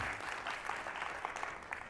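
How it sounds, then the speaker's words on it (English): A seminar audience claps together in a brief, moderately distant burst of steady, even applause with no voices over it. "Let's have a round of applause for the..."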